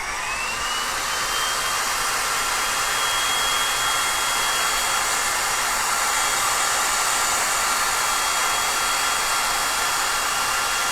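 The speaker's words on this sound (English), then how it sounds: "I'm going to take the remaining part of my rigid trim roll and I'm going to hit it with the heat gun again." Heat gun blowing hot air onto a roll of rigid trim, a steady loud whooshing roar with a faint rising whine, continuous and close throughout, with no talking.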